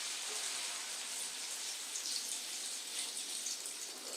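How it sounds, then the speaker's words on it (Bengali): Water is poured into a pan of sautéed bottle gourd, a continuous, steady splashing hiss lasting a few seconds, close and moderately quiet, with no voices. "লাউটা কষানো হয়ে গেছে, এবারে জল দিয়ে দেবো।"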